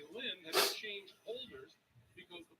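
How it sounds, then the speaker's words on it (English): A single sharp sneeze bursts out between stretches of someone talking nearby. "I gotta sneeze."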